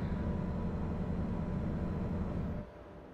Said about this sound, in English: This truck is kind of loud a little bit,